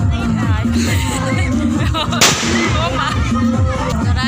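At a Bodo wedding, firecrackers go off as the groom arrives, with one sharp, loud bang cutting through loud music and a chattering crowd.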